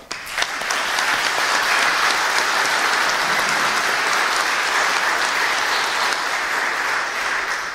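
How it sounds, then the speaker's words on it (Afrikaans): A church congregation at a Christmas carol service applauds the performers: dense, steady clapping from a full room, loud and sustained throughout without a break. "Kom ons gee vir hulle wat opgetree het 'n lekker hande klap"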